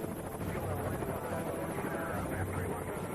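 Steady low rumble of a US presidential Marine One helicopter in flight, constant and fairly loud with wind-like noise, no voices.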